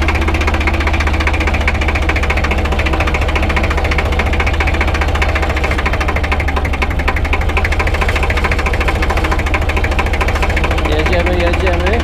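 A 1965 Deutz D 40 tractor diesel engine pulling gently uphill, a loud, steady, close chugging drone with a rhythmic knock that never lets up, with someone talking over it.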